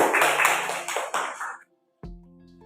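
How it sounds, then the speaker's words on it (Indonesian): Students in a classroom clap for presenters in a brief, bright burst of hands that fades after about a second and a half, followed by silence and then a sustained ringing tone. "beri tepuk tangan semuanya"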